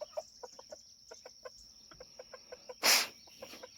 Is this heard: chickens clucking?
yes